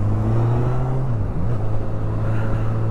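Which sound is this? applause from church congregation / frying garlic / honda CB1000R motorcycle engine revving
honda CB1000R motorcycle engine revving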